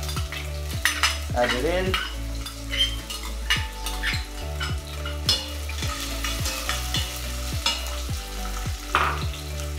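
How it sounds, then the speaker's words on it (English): Onions and crispy-fried garlic sizzle and fry in a pan over a flame, with steady stirring and scraping of a utensil against the pan and occasional clinks of cookware, close and moderately loud throughout. "Add in your onions. And a bit of the garlic that you did it crispy."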